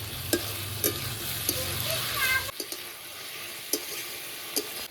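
Malabar spinach (pui shak) fries in a pan with a steady sizzle and a few sharp spatula scrapes; the sizzle drops away partway through, leaving quieter clinks.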